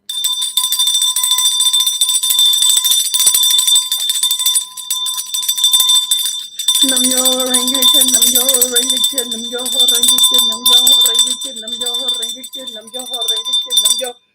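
A bright, high-pitched bell rings continuously, with a person singing or talking over it in the second half.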